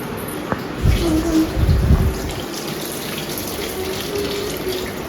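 Cold water runs from a tap over fresh homemade butter being washed in a kitchen, with a couple of louder splashing bursts near the start, then a steady stream.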